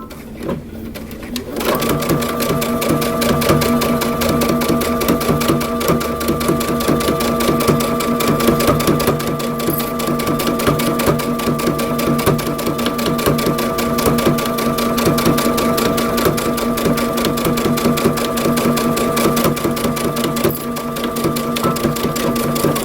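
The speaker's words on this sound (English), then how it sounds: "we're going to be sewing using 3/8 of an inch seam allowance" A sewing machine stitches a coat pocket flap with a 3/8-inch seam allowance, producing a loud, continuous, rapid whirring hum close up after a brief start, running steadily without pause.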